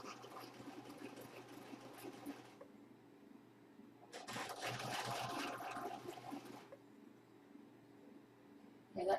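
A home sewing machine stitches French seams on a blouse in two runs of steady whirring, separated by a quieter pause, with a low background hum throughout.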